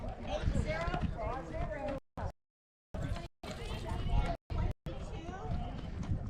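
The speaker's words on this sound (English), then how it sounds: "Rider walking the horse in." Hooves clip-clop at a walking pace as a rider walks a horse into a Tevis Cup endurance ride checkpoint at Red Star Ridge, beneath steady crowd chatter and an announcer-like voice, the audio cutting out briefly a few times.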